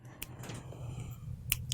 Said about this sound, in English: just take your little scissors and clip little